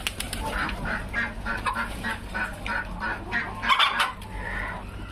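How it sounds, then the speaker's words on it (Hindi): Aseel hens in a pen in Mumbai call and cluck repeatedly in short honking bursts while feeding, a steady chorus of nearby fowl with no talking. "इसमें सब में मुर्गे हैं, सब खाना खा रहे हैं अभी इस वक्त।"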